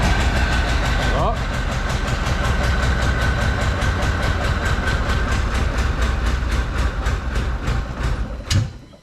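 A rare old Porsche engine with stale fuel left in it cranks over without starting. The churning starter rhythm is loud, close and evenly paced, then falters and fades with a final knock.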